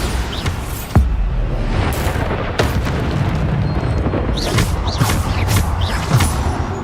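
A Bombarda blasting spell from Hogwarts Legacy booms out as a dense, sustained roar of explosive bursts, with sharp impacts near 1, 2.6 and 4.5 seconds over continuous rumbling combat noise.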